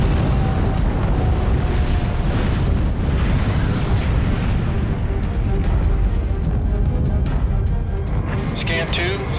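Bombs dropped by B-2 Spirit bombers on enemy targets set off a loud, continuous rumbling roar of explosions, with a voice heard over the din.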